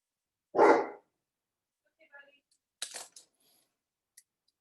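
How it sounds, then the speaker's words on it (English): A dog indoors gives one loud, close bark at a delivery outside, followed by fainter scattered clicks and small knocks in an otherwise quiet room. "there might be a delivery outside, so my dog is warning us."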